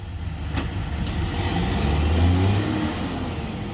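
A truck engine revs hard and steadily while the vehicle is stuck, its steer tire losing grip; a loud, continuous low roar that swells in the middle, with no talking.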